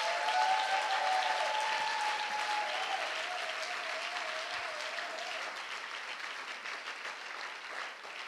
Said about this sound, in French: Acclame très, très fort cette parole.